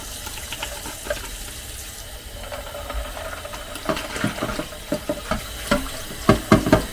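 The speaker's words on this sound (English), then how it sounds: "Put some cold water on." Cold water running from a tap into a sink, a steady splashing with irregular louder spatters and clinks toward the end.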